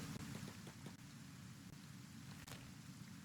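Rain in Kenshi falls as a steady, moderately loud hiss with a low rumbling undertone suggesting distant thunder, continuous and unbroken with no voices.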